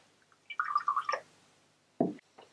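Hydrochloric acid is poured into a beaker of purple cabbage juice: a brief trickling, splashy pour of about half a second, then a single louder knock-like clunk of glass, with quiet between.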